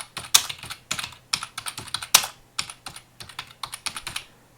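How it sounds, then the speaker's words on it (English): Typing on a computer keyboard with clear, crisp keystrokes in quick uneven bursts and short pauses, close and distinct against a quiet room, with no talking. "I'm just going to type in the name of a journal here"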